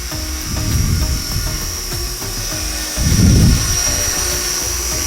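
A JR Forza 450 RC helicopter hovering indoors at low throttle, a steady high-pitched rotor and motor whine with a fluttering low thrum that swells briefly, close and loud.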